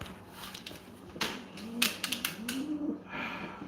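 A rescued pet bird coos softly indoors, with a few low coos among sharp taps and rustles from the cage, close and fairly quiet.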